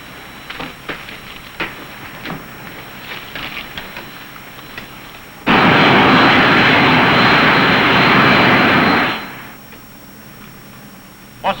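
A light aircraft engine at about 2,100 RPM swells abruptly into a loud, steady roar during a climb, holds for several seconds, then drops back to a quieter hum.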